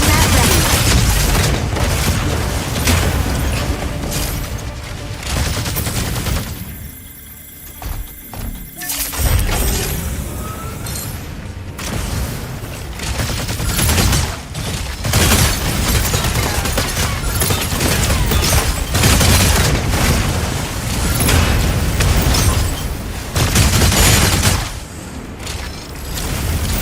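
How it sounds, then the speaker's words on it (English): Explosions rip through an elevator's midsection in the Mechabreak mech combat game, loud repeated booms and crashing debris in dense bursts, with a brief quieter gap, under occasional voice lines. "Explosion in the elevator's midsection."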